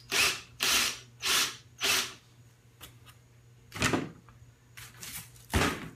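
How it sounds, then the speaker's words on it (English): A power drill bores a hole through an ice cooler in a series of short, whirring bursts: four evenly spaced at first, then a few more irregular ones, fairly quiet with pauses between. "Nothing like drilling a hole in something"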